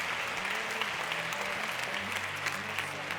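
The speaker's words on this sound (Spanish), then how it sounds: "Fuerte el aplauso." Sustained audience applause fills the room at a live magic show, steady and dense throughout, with faint tonal background sound running beneath the clapping.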